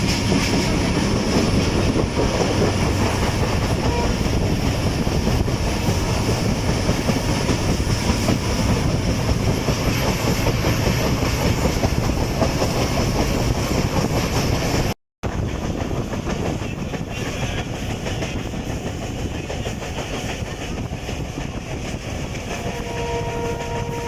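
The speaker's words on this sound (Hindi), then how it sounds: "अभी आमों के बागों के बीच में से हमारी ट्रेन गुजर रही है" Passenger train of the 151 Up Shah Latif Express rolling through mango orchards near Mirpur Khas, with a steady loud roar of wheels and carriage rumble heard from on board, briefly cut out midway.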